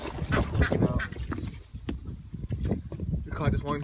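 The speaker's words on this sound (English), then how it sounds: "Ducks over here, we got a special little cradle for ducks." Ducks quack in a backyard garden, close and repeated, in short bursts mixed with a person talking nearby.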